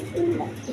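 An army pigeon gives a single short, low coo at close range, with soft rustling around it.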